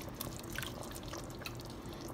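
Water poured into a pot of Sri Lankan ground-spice chicken curry, a steady close liquid pour and dribble running throughout with no talking.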